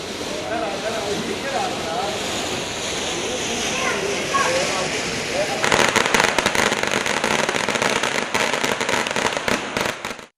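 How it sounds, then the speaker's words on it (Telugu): Diwali firecrackers bursting, lit near children, fill the air with a dense crackle and rapid popping that grows into a fast, continuous burst sequence over a noisy festive background. "కథానాయకుడు శ్రీకాంత్ పిల్లలతో దగ్గరుండి బాణసంచా కాల్పించారు."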